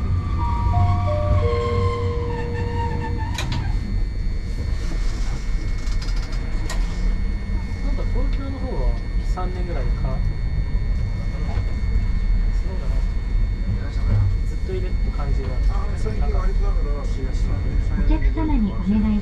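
Hankai Line tram rolling through the streets of Osaka toward Tennoji-ekimae, a steady low rumble of wheels and motor with a falling electronic chime, heard from inside the car under recorded station announcements.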